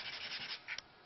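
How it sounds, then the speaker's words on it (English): A sanding block rubs over card stock to expose its white core, a close, soft, continuous scratchy rasp with a slight scrape near the end. "I'm just putting a sanding block on top of that to expose the white core."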